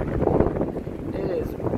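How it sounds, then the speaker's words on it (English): Wind buffets the microphone in low rumbling gusts outdoors, with a voice talking over the blustery noise. "It is really, really windy."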